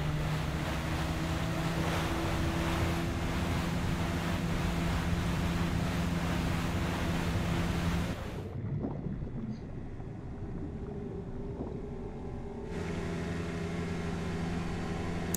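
A small motorboat crosses open sea in Resident Evil 4, with a steady engine drone over washing waves and wind. Partway through, the engine drops away to quieter water and wind, then returns.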